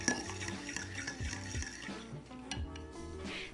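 Vegan cookie dough ingredients, melted vegan butter, sugars, egg replacer and vanilla extract, being stirred together in a bowl, giving a steady run of close scraping and clinking from the utensil against the bowl with no talking.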